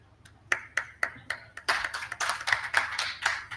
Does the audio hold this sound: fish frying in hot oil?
no